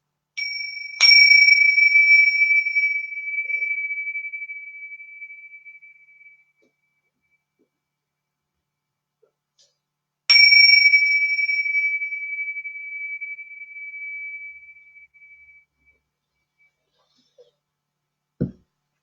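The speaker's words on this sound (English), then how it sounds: "just ringing this bell and bringing us into presence" A bell is struck twice, several seconds apart, at the opening of a meditative gathering. Each strike rings out clear and bright, then fades slowly into silence before a faint thump at the end.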